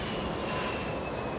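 Heavy airliner taking off from runway 24 left at Los Angeles International Airport, a loud, continuous engine roar with a thin steady whine, no voices.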